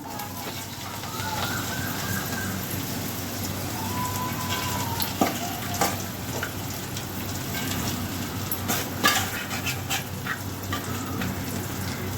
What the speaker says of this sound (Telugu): గోంగూర వేగుతుంది కదండి